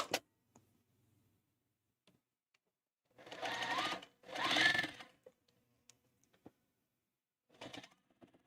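Domestic sewing machine stitching cotton quilt seams in two short bursts of about a second each, the motor whirring steadily, separated by quiet pauses with small clicks and a brief later run.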